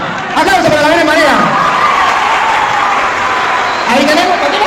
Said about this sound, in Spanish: Aplausos para la Virgen María.